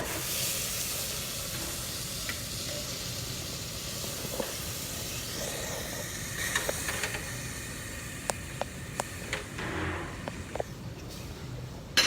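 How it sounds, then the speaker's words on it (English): Boiling vegetable stock is poured into rice for risotto. It makes a steady, broad hiss and sizzle that runs throughout, with a few faint clicks and clinks of utensils near the end. "ये जो उबालता हुआ जो वेजिटेबल स्टॉक है, इसको मैं इसके अंदर डालने वाला हूँ"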